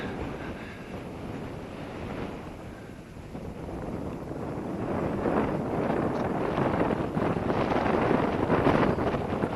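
Wind rushes against the microphone during a flight with a small model aircraft, a continuous roaring buffet that grows louder and rougher over the second half, with no voices.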